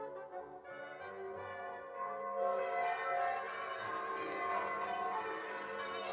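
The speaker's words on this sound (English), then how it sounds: "the sound of bells began to ring across the fields" Church bells pealing across open fields, a steady overlapping ring of several bells heard at a moderate distance, continuous and fairly even in level.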